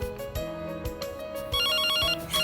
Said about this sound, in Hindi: नितिन का फोन होगा, भागी।